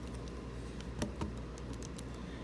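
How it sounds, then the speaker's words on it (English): A few soft plastic key taps on a calculator while numbers are entered, faint clicks spaced irregularly over a low steady hum, with no talking. "I'm typing it in my calculator"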